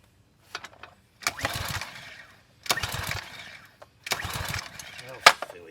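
Power washer engine being pull-started, three long ragged bursts of the recoil cord and sputtering motor that never catches, with quiet gaps between tries.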